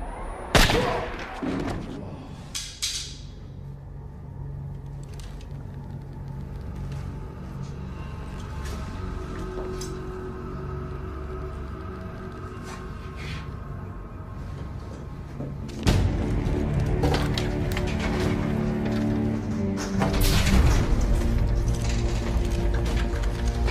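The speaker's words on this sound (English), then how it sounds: "Gunfire." Gunfire in an action movie scene: sharp bangs burst out near the start, then a tense rumbling soundtrack builds and swells before another loud volley cuts through.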